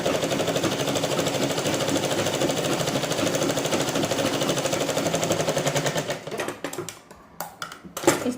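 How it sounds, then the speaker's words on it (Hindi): A sewing machine stitches a blouse side seam in a dense, rapid, continuous clatter for about six seconds, then stops with a few scattered knocks and handling sounds, close up. "ये देखिए अब मैं साइड वाली सिलाई भी लगा दूँगी"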